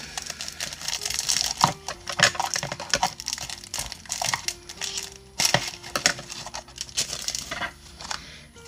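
Plastic packaging around a roll of wide glitter ribbon crinkles and crackles as it is opened up close, in uneven bursts of rustling and sharp crackles with no talking.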